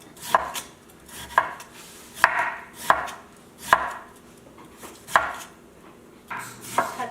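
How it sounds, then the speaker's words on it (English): A knife slices pickle radish (daikon) into thin pieces, giving about eight distinct thuds against a cutting board at a steady, unhurried rhythm, up close and with no one talking. "slice it like that, you know, make it thin"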